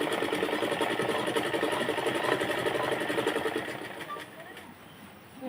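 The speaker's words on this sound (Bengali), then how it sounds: "দেখো আমি প্রথমে একটা পায়ের কাছে চাপ সেলাই দিয়ে নিচ্ছি" A sewing machine whirs steadily while stitching a salwar near the leg opening, then slows and fades near the end, with a voice speaking over it.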